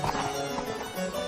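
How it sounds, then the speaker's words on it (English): A horse gallops off to join a fox hunt as a radio drama sound effect, with quick rhythmic hoofbeats and a faint whinny, loud and close against a dense noisy background. "the squire instantly claps spurs upon his horse, which has the same inclination as its master"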